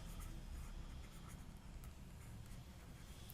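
Writing out an accounting solution during a commerce lesson makes very faint, continuous scratching strokes in a quiet room, with no speech over it.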